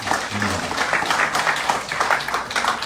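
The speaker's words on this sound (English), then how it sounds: "Please give him a big round of applause." Dense, steady applause fills the hall during a Ramayan Yagya gathering at a Hindu temple, with a voice briefly audible at the start beneath the clapping.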